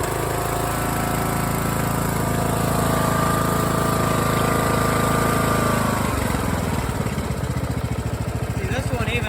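A riding lawn mower engine runs loud and close with a steady mechanical drone that shifts to a lower, rougher idle partway through.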